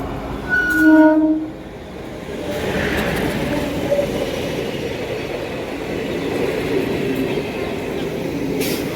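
A train horn blares briefly at Khojewal railway station, then the steady, low rumble of the train carries on at a moderate distance.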